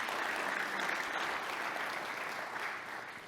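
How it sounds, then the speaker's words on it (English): Sustained audience applause at a Rocket Pro TPO launch event, honoring the product team; dense, steady clapping from a large crowd that holds strong throughout and eases only slightly at the end, with no voices over it. "So round of applause to our product team for that."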